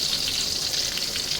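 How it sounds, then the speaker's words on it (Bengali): Eggplant slices fry in hot oil for Bengali begun bhaja. The sizzle is close, even and crackling and carries on steadily with no talk over it. "এই যে বেগুন ভাজা হয়ে যাচ্ছে আমার"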